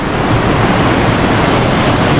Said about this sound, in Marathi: खळखळणारं पाणी आहे इकडे